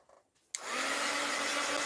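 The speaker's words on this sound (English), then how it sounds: "Let's hit that with the heat gun." Heat gun switched on to dry a painted mixed-media art journal page: a short click, then a loud steady blowing whir that holds at even strength close to the microphone.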